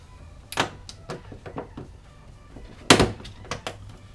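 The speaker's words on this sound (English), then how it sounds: "I totally just destroyed that clip." A plastic retaining clip cracking while a 2016-2018 Camaro side skirt is pried off: a series of sharp snaps and thunks, with one loud crack standing out among smaller clicks.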